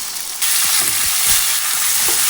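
Chicken hitting hot coconut oil in a pan, a sudden loud, dense sizzle that stays steady and close, with a few faint stirring knocks underneath and no speech.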